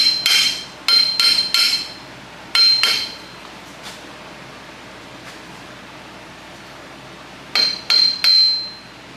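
Metal rings out under hammer blows on a vehicle axle, landing in quick groups of two or three, separated by pauses, loud and close, with no talking.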